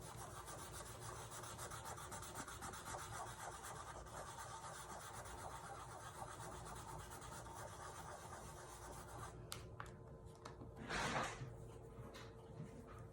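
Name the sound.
rubbing wet paint off wood sign with baby wipe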